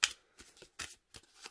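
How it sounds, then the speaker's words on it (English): A deck of matte-finish tarot cards being riffle-shuffled in several quick, crisp bursts with short pauses between them, close and fairly quiet. "They do shuffle really well."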